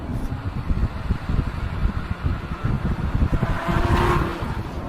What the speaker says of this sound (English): I'm cruising along in third right now, downshift into second